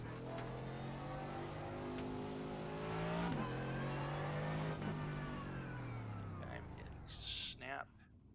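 A GT3 race car engine in a racing video game revs loudly and steadily, pitch climbing and dropping through gear changes, with a driver talking over it.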